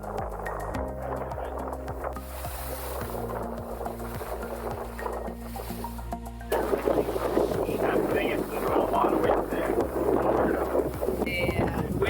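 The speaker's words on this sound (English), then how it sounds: "Wind is quite strong, but hopefully hole 2 it does calm down." Strong wind buffets the microphone outdoors on a disc golf course at Side Lake, a steady rumbling roar that grows heavier midway, with people talking under it.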